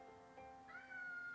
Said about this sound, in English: Excuse my cat again.